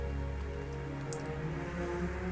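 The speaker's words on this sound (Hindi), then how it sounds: "काश ये बारिश न रुके।" Rain falls steadily, a soft continuous patter under a low droning background, with one brief sharp splash or drip partway through.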